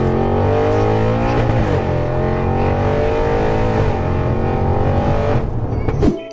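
An 800bhp Audi RS6 with hybrid turbos revs loudly and close by, its engine note holding steady with rising harmonics before a final burst and cutoff.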